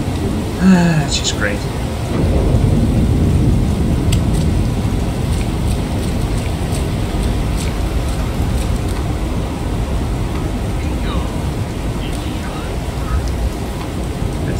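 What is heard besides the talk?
rain falling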